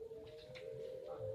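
Puter pelung turtle doves cooing at a night contest in Kota Gede, Yogyakarta, a steady low-pitched call running continuously with faint background chatter and mixed ambient noise.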